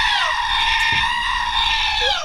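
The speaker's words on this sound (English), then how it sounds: "I wake up to those screaming goats" A goat screams in one loud, drawn-out, harsh bleat that fills the whole moment close up.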